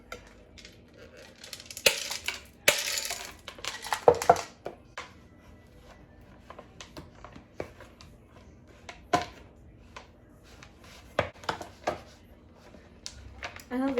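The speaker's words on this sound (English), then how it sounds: "Stir with a wooden spoon. No over mixing," A wooden spoon stirs chocolate chip cookie dough in a bowl, making irregular soft knocks and scrapes, with a few sharper clacks against the bowl's side and a voice murmuring now and then in the background.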